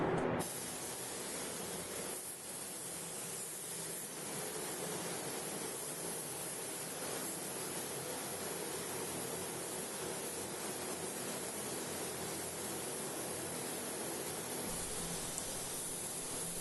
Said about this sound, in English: I found spraying the bottom first and then bringing it up around the sides